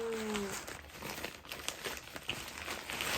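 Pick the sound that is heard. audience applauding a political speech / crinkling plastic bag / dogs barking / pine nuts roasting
crinkling plastic bag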